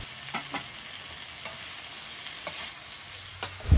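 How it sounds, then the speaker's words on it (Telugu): Grated carrot tipped into a pan of frying onion tempering for Andhra-style carrot curry, giving a low steady sizzle broken by a few soft, evenly spaced stirring scrapes and a louder clatter at the end. "ఇప్పుడు తురుము పెట్టుకున్న క్యారెట్ ఏదైతే ఉందో వేసేద్దాం"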